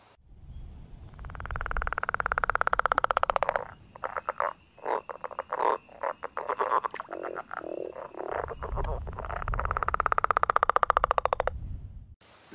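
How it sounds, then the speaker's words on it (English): Northern leopard frogs call in a close chorus of long, rattling, snore-like croaks, pulsing in bursts with short gaps between calls, loud and clear with no voices over them. "The chorus of the northern leopard frog is kind of like a snoring sound."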